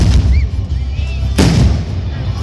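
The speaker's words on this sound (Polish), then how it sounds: "rozpoczął się ostrzał miasta z artylerii ognistymi kulami i strzałami" Artillery fire at a reenactment of the 1466 siege of Chojnice booms loudly in heavy, rumbling bursts, with one sharp report standing out midway, over a dense low din and faint whistling sounds.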